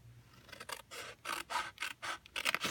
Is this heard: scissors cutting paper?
yes